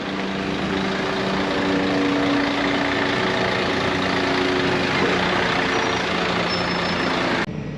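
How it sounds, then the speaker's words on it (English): A long lorry pulling a wagon and drag of straw idles at a farm weighbridge, a steady, loud low diesel rumble that holds throughout, with a brief hiss near the end. "We're going to have to weigh him 3 times because his lorry's pretty long."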